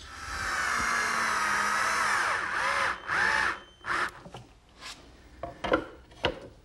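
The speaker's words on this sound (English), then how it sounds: "now I'll center the base on the top and attach it with some screws" Power drill driving screws to fasten a desk base to its wooden top, one long, loud, close whirring run followed by several shorter bursts and taps as the screws seat.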